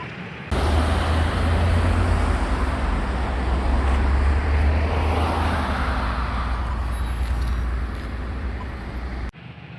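Steady, loud roar of heavy traffic on a huge multi-lane road, a continuous broad rumble of cars, trucks and buses passing close by for nearly ten seconds with no talk.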